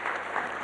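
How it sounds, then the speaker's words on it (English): Brief moment of audience applause at a business breakfast meeting, a steady patter of many hands clapping in a room, short and continuous. "Shall we give him another round of applause?"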